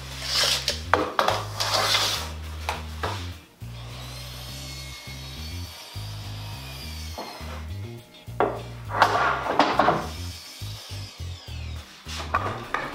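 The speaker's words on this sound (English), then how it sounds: "Here I am having to now move all of these clamps out of the way so I can do the project." Metal clamps being shifted and set down in a woodworking shop, irregular clanks, scrapes and knocks near at hand, with louder bursts at the start and again near the end and quieter handling in between.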